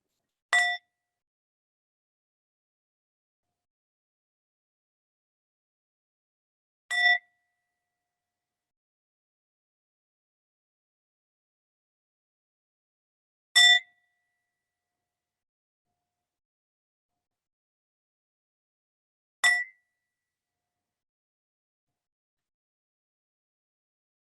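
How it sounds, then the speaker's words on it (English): A small Tibetan singing bowl is struck four times at slow, even intervals of about six seconds, each strike a bright, clear ring that fades quickly into silence. "So I'm going to use my little Tibetan bowl here for you."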